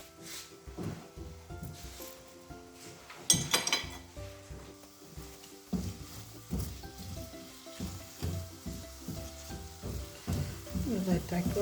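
Garlic sizzling in a pan for a creamy sausage and mushroom tagliatelle, a soft steady frying crackle broken by frequent clinks and scrapes of utensils against the pan, with no talking.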